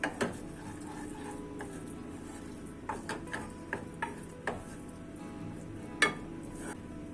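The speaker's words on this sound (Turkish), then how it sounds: "Tereyağda unu kavuruyorum." Spoon scraping and clinking against a pot while stirring flour roasting in melted butter for béchamel sauce, irregular close taps and scrapes over a soft low sizzle.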